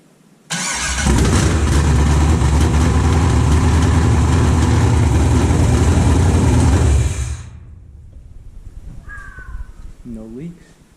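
An LS-swapped BMW E36 fires up on its first start and roars loudly and steadily for about seven seconds, then cuts off. Quieter voices and caw-like calls follow.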